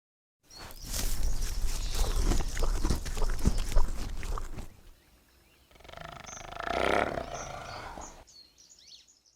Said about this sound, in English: Roars, the thunder of hooves striking the earth, and the frantic cries of the calves filled the air like a wild symphony.